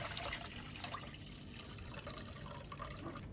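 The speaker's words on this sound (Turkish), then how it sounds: "şimdi pancarın suyunu bir kaseye alıyorum" Red beet juice is poured into a bowl, a soft continuous trickle and splash of liquid heard close and quiet, with no talking.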